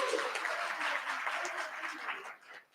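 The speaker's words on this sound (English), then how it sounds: "Just give him some applause, please." Faint audience clapping at a Johannesburg mayoral candidates debate, a soft, even patter lasting a couple of seconds before tapering away.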